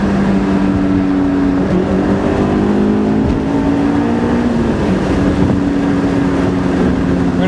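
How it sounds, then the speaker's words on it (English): A Honda S2000 engine hums steadily from inside the car during a downshift from fourth to third with a throttle blip, the engine note shifting slightly in pitch over a constant road and wind roar. "Listen to blip throttle downshift here."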